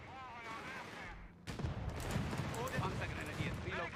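A grenade launcher shell fires in Company of Heroes 3: after a quieter stretch of battlefield ambience, a sharp, heavy blast hits, followed by rumbling artillery-like booms and scattered gunfire, with voices in the mix.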